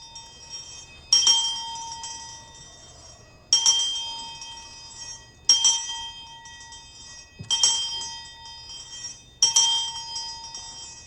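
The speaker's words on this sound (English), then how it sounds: "on Saturday at the marker's unveiling, a bell was rung 8 times." A bell rung at a memorial marker unveiling: clear, ringing strikes spaced about two seconds apart, each leaving a sustained metallic tone that decays before the next, with quiet background between.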